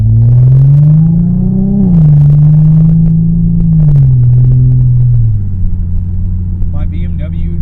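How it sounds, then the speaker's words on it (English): An old BMW with a rusted-out, rotting exhaust rumbles loudly and close up, a deep throbbing idle that rises briefly as it revs and then settles lower. "My BMW exhaust is getting louder because it's like rotting out because it's old."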